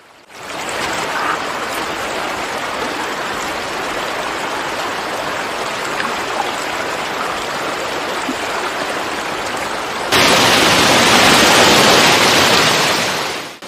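Constant rushing water of a flowing stream, loud and unbroken, growing brighter and stronger toward the end.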